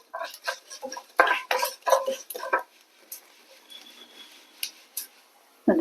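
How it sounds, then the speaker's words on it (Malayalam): Fenugreek seeds and urad dal roast with black pepper in a pan for Udupi rasam, heard as a run of rhythmic scraping and clinking stirring strokes followed by quieter, sparser scrapes. "നമ്മൾ ഇതിലേക്ക് എടുത്ത് വെച്ചിരിക്കുന്ന ഉലുവ ചേർക്കാം ഉഴുന്ന് പരിപ്പ് ഇതിലേക്ക് ചേർത്തു"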